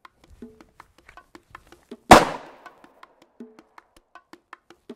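Pistol fired live on a range during a close-quarter weapon retention demo, a single sharp loud shot with a short decaying tail, amid quiet ticking background sounds.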